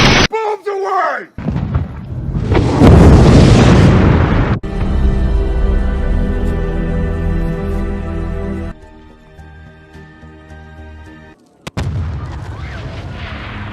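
Explosions from a Walking Dead television scene, a loud booming blast with rumbling debris, followed by a stretch of music and another burst of noise near the end.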